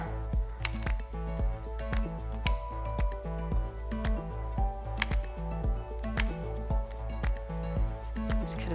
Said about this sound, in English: Okay, so I'm just going to snip off the elastic bands.